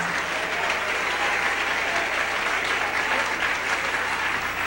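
A church congregation at a morning service bursts into loud, dense applause, a continuous wash of clapping filling the room without letup.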